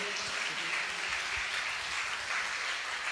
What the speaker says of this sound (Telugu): అందరూ చప్పట్లు కొట్టండి గట్టిగాను, గట్టిగా.